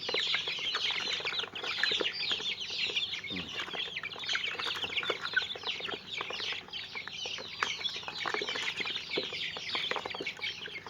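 Domestic backyard chickens cluck and chatter continuously at close range, a dense flock of overlapping calls with no talking.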